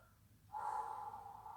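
A single deep breath during a yoga exercise, a short close, airy inhale rising suddenly and holding steady for about a second, faint and alone.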